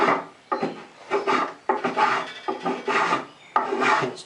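A spokeshave shaves a wooden stool seat by hand in a series of about eight rasping strokes, each a close, loud, gritty scrape with short pauses between.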